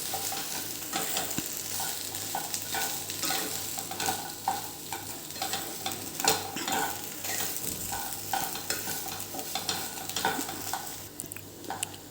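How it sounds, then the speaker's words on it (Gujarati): Samosa stuffing with coriander-cumin powder, red chilli and salt is stirred and roasted in a pan, giving a continuous soft sizzle with repeated scraping strokes of the spoon, close and steady with no talking. "6 થી 7 મિનિટ માટે આવી રીતે હલાયા કરવાનું અને થોડું શેકાવા દેવાનું"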